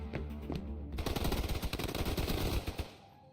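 Rapid automatic SMG gunfire in the video game Snowbreak: Containment Zone, a single dense burst of quick shots lasting about two seconds after a brief lead-in, loud and close, then a short tail.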